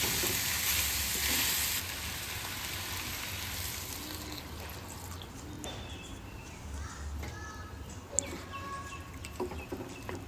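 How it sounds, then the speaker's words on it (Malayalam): A chicken stew simmers and sizzles in a pan as it is stirred and thin coconut milk is added, a steady close bubbling hiss with a few scrapes and clinks. "ഇനി ഇതെല്ലാം ഒന്ന് ഇളക്കി തേങ്ങാപ്പാലിൻ്റെ 3-ാം പാൽ ഒഴിച്ചു കൊടുക്കാം"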